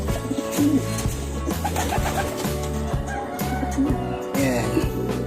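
Racing pigeons coo in a steady, repeated low rhythm close by, several birds overlapping with soft rustling around them, at a pigeon club loft in La Union.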